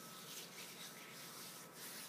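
Sugar scrub rubbed between hands makes a faint, gritty, continuous scratching and rustling, close and quiet, with no voices.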